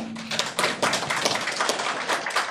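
An audience at a Sunday evening talk in Hyderabad breaks into dense, steady applause, many hands clapping loudly and continuously throughout.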